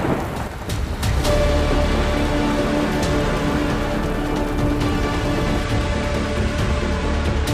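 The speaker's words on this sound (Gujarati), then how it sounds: "કોટ્ટાયમ જિલ્લાના અનેક વિસ્તારોમાં વરસાદ વરસી રહ્યો છે." Heavy monsoon rain falls in Kottayam district, Kerala, as a loud, dense, continuous downpour pattering on surfaces, with a low rumble of thunder underneath and no voices.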